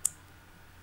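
A single sharp computer mouse click right at the start, then quiet room tone.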